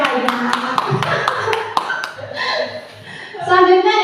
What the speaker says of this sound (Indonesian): Betul, tepuk tangan tuh Mbak